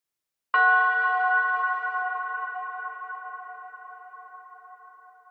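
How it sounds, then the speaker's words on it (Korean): A single struck bell, as from a Buddhist temple, rings out loud and clear, its pure sustained tone slowly fading over several seconds with nothing else heard. "철판 제거 시 종소리 재현됨."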